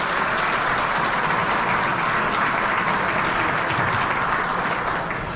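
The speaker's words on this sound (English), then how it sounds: "Let's give them a big round of applause" A big round of applause at a charity gala dinner in a Four Seasons Hotel ballroom, for the chefs: a dense, steady wash of many hands clapping that holds evenly and fades slightly at the end.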